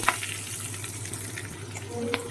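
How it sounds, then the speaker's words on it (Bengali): Green chilies fry in oil in a pan for a hilsa fish head and red taro leaf dish, giving a low, steady sizzle close by with faint stirring clinks. "লঙ্কাগুলো ভাজা ভাজা হয়ে এসছে"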